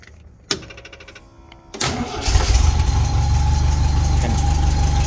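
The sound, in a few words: Triumph GT6 engine starting and idling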